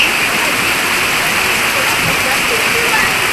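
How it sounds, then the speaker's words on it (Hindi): Heavy downpour in Guwahati pours outside as a loud, constant hiss of rain hitting surfaces, steady and unbroken from start to finish. "तो बाहर पूरा भयंकर बारिश,"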